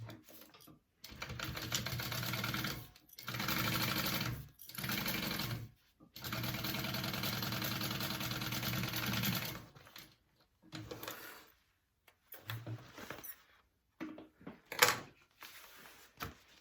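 A sewing machine stitches a seam on a crossbody bag and its lining in several sustained whirring runs of a few seconds each, separated by pauses, followed by shorter bursts and light clicks.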